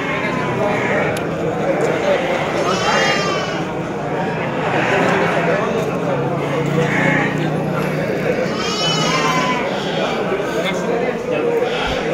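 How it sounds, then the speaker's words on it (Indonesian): Garut Priangan sheep bleat among the dense chatter and bustle of the Tanjungsari livestock market, several calls rising through continuous crowd noise and nearby talk. "Tuh, area domba buat akikah di sini."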